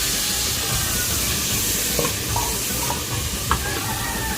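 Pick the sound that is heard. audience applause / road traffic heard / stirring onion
stirring onion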